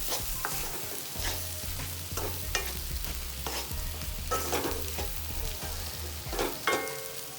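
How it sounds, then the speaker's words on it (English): Chole masala being sautéed in a pan, a steady sizzle with repeated scraping stirs of the spoon against the metal and a low hum running underneath, close and alone with no talk. "Just saute."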